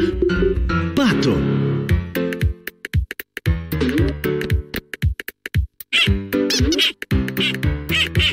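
The cartoon duck from the Pocoyo animated series gives a series of nasal, voiced quacks, loud and close, broken by short pauses and mixed with other animated character voices.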